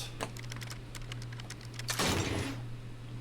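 A strong box opens in the video game Shadow of the Tomb Raider with a quick run of crisp, typewriter-like clicks and clacks, followed by a louder burst of rattling mechanism near the end, all close and clear with no talk.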